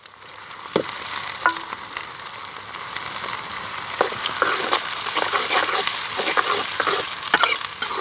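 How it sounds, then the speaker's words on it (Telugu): Onions and green chillies fry in hot oil in a pan, a steady crackling sizzle that grows denser over time, broken by a few sharp utensil clinks and stirring scrapes, close by with no talk. "నూనె పోసుకున్నాం ఎర్రగడ్డలు పచ్చిమిరకాయలు"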